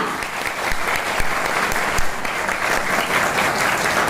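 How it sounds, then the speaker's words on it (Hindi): Thunderous audience applause at an IMC company success event in honour of the company leaders, a thick continuous wash of clapping from a large crowd, loud and even throughout. "एक जोरदार तालियां"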